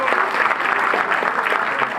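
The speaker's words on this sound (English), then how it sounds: "A big round of applause to all of them" An audience at a Kannada Rajyotsava celebration gives dancers a round of applause, loud and close. Steady clapping runs throughout while faint voices murmur underneath.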